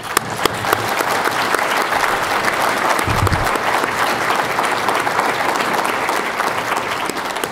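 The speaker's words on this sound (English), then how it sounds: "So let's give them a round of applause." Sustained applause from an audience at a Rotary Veterans Day gathering honoring standing ROTC and NROTC cadets, steady clapping filling the room throughout, with no talking heard.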